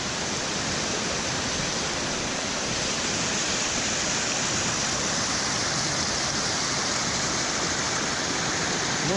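Floodwater in a swollen river roars in a steady, dense, unbroken rush. It is loud and close, with no voices and no letup.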